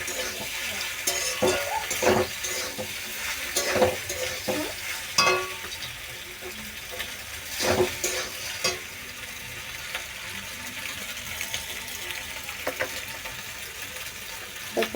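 A spatula stirs fried egg into pasta with potato and onion in a sizzling home pan, giving steady frying hiss broken by repeated scraping, clattering strokes up close.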